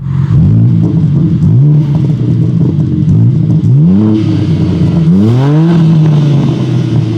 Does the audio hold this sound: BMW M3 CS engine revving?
yes